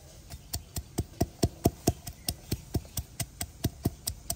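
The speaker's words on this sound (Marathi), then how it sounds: "खलबत्त्यात आपण 2-3 हिरव्या मिरच्या आणि लसूण बारीक ठेचून घेणार आहोत" Green chillies and garlic are pounded in a mortar and pestle, a steady run of about twenty evenly spaced, close thuds with a slight hard knock to each, and no talking.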